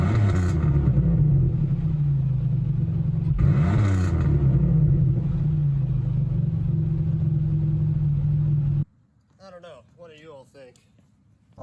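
A 2003 Pontiac Grand Prix Limited Edition idles with a steady, grumbly, slightly raspy rumble for about nine seconds, close and loud. A person then starts talking after the engine sound cuts off.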